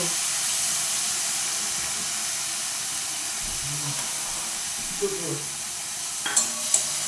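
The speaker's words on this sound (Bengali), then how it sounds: "এবারের মধ্যে দিচ্ছি আমি আগে থেকে বেটে রাখা পোস্ত" Ground poppy seed paste hitting a hot pan gives a steady, loud sizzle and hiss, with a few light scrapes of stirring near the end and no talking.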